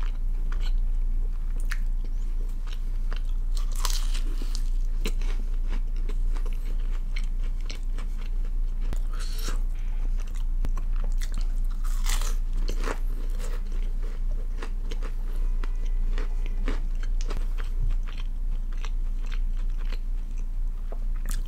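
Close-up biting and chewing of a kathi roll at a hotel in Mumbai, with wet crunches and squishy mouth sounds repeating steadily over a constant low hum, no talking.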